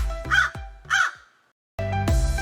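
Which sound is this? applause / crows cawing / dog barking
crows cawing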